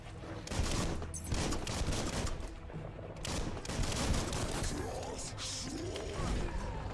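Gunfire in Biomutant, bursts of rapid shots mixed with combat clatter at moderate distance, while a person talks over it.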